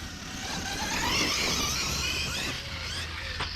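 Arrma Kraton EXB RC car fitted with a Hobbywing Max 6 1650kv motor on a shakedown run, giving a steady, loud high-pitched electric whine with wheel and gravel noise throughout, easing slightly near the end.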